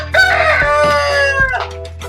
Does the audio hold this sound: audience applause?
no